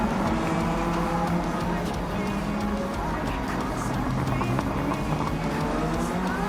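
A 500 hp 2015 Mitsubishi Evo race car in Gran Turismo 7, its engine note rising and falling steadily as it laps the track, with tire noise and a voice speaking faintly over it.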